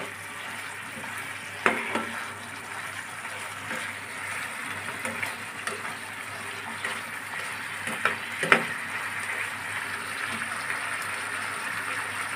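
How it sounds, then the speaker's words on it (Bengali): Food fries in a pan on a stove, a low steady sizzle broken by occasional spoon scrapes and clinks as it is stirred, fairly quiet and close. "ভালোভাবে নেড়ে চেড়ে মিশিয়ে এটা আরও আমি 2-3 মিনিট ভেজে নেব।"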